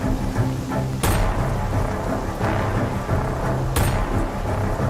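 Steady heavy rain pours through a Bombay thunderstorm, with two sharp, loud thunder cracks about three seconds apart that roll into the downpour.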